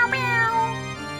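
A voice imitates a cat's meow in one clear, drawn-out, close and fairly loud call with a rising then falling pitch.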